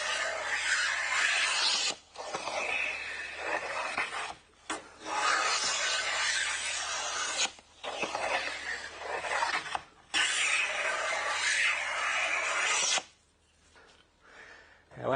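Cutting a deep bevel into cedar crown moulding with a hand-pushed plane, long rasping strokes repeated about five times with short pauses between, close and steady, the last strokes briefer.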